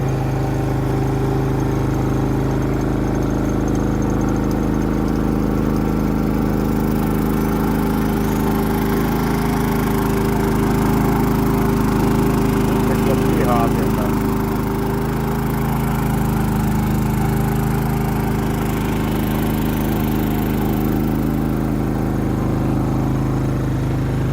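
A Loncin LC 4500i inverter generator runs steadily while powering a 2 kW electric kettle, a constant low engine drone with a smooth mid-range hum and no talking over it.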